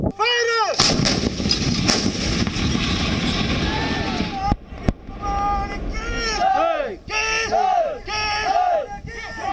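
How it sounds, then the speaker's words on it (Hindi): A 105 mm Indian Field Gun, a light artillery piece, fires with heavy booming blasts and sharp cracks, followed by loud crowd shouts and battle cries rising and falling. "यही गन फायर कर रही होती है।"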